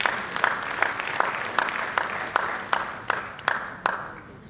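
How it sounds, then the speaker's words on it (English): An audience claps at a gathering, with a steady patter of hands and a few sharper, distinct claps punctuating it, moderately loud and close, with no talk over it. "Let's clap for Nassit."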